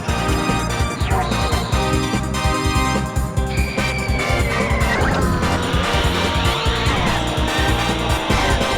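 Kart racing game engines buzz steadily with repeated tire skids and squeals over busy game music, loud and continuous throughout.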